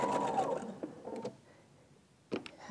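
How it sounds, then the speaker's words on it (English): A sewing machine stitches quilt pieces together in a quiet room, a short burst of rapid stitching that stops, then a brief second whir near the end. "I'm just gonna sew those together"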